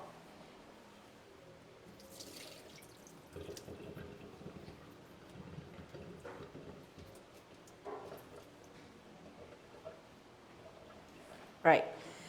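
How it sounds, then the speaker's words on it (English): Soaking water drains off rice in a Thermomix, a soft, intermittent trickle and splash under quiet talk, closing with a brief louder knock near the end. "I will drain this off."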